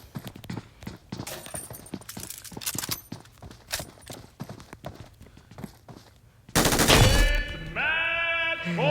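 An MG3 light machine gun with Brass Bovine skin in PUBG Mobile fires long rapid bursts of clattering shots, loud and close, before a sudden roar and rising whine near the end.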